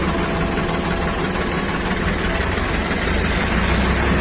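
A three-cylinder tractor engine idles loudly and close up, a steady low rumbling chug with constant vibration and no pauses.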